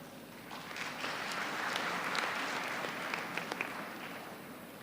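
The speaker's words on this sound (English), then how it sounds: "Please give a big round of applause and let's give a warm welcome to Dr. Rajkumar Buyya." Audience applause at a university convocation ceremony for computer science engineering, a broad crowd of clapping that swells after the first second and holds steady, with a few sharper individual claps standing out.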